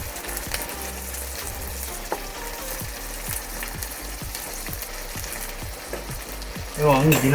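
Soy sauce and chilli sauce sizzle with potatoes in a pan for honey chilli potato, a continuous crackle with regular light ticking, growing louder right at the end.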